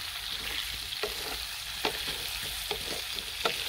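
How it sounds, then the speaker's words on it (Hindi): Diced potatoes and tomatoes fry in a karahi, giving a steady close sizzle, with occasional scrapes and taps as a spoon stirs, and no talk. "अभी टमाटर को भी नरम होने तक आलू के साथ फ्राई कर लेंगे।"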